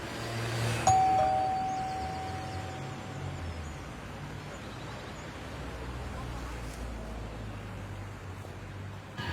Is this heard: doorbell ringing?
yes